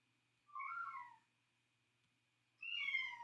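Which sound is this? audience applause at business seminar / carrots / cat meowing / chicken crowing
cat meowing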